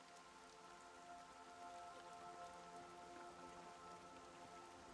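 Steady rain falling on surfaces in the game Everybody's Gone To The Rapture, a continuous soft patter heard alone at low volume throughout.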